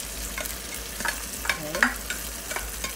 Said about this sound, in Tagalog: pwede na nating isunod na nating ilagay yung ating marinated beef